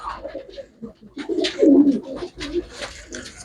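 Pigeons offered for sale coo in repeated low, throaty rolls, fairly close and steady, with a few soft rustles and faint chirps between the calls.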